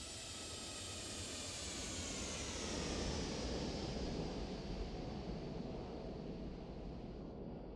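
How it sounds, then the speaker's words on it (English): A Toliss A320neo airliner with gear down and flaps full makes a low flyby in X-Plane 12 at Faro, a steady broad jet roar with a faint whine that swells and then slowly eases, with no talking. "Let's go, gear down, flaps full, flyby."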